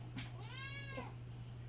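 A single drawn-out cat meow, fairly faint over a steady electrical hum, with soft rustles before and after.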